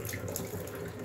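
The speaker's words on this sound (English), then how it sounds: "you just turn the tap on flat out" A hot water tap turned on full, giving a steady, close rush of running water into a sink with no pauses.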